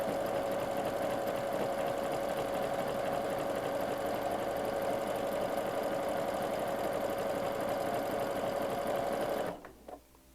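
A sewing machine runs a triple stretch stitch on T-shirt fabric for a toddler skirt, a steady, close, continuous whirring drone for about nine seconds before stopping abruptly.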